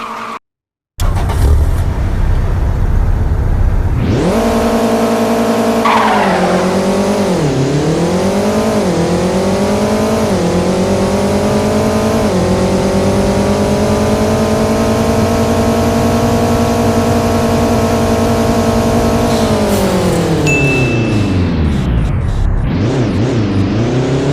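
A car in the mobile driving game CDID revs hard and loud, its engine pitch sweeping up and down through long drift passes, with a brief silent gap at the start and a drop near the end.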